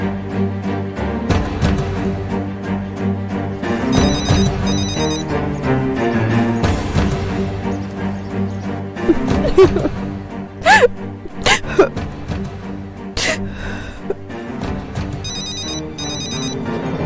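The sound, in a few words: telephone ringing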